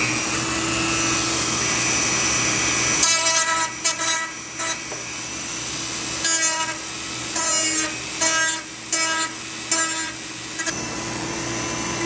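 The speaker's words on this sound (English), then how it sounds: "I'm going to try and sand that down like I did on the sides." Power sanding on the rolled edge of a helmet, a loud motor whine that starts about three seconds in and cuts in and out in short bursts as the sander is pressed on and lifted, with steady background hum throughout.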